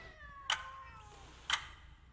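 In Sense: A Cyberpunk Ghost Story, an angry cat gives faint, drawn-out meowing tones under ambience, broken by two sharp ticking clicks about a second apart.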